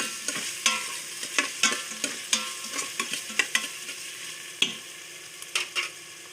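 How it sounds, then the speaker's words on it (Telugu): Food being stirred in a pan after salt goes in, with a steady run of sharp spoon scrapes and clacks over a soft sizzle, close and alone, without any voices. "సాల్ట్ వేసుకున్న తర్వాత మిక్స్ చేసుకోవాలి."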